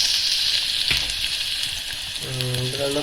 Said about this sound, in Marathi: कांदा आणि मिरची टाकले फोडणीला